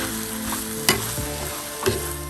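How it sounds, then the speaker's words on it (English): Spicy Jaffna mutton fry sizzles steadily in a hot pan, with a continuous close frying hiss broken by two sharp stirring clatters about a second apart. "You can see it's frying very, very well"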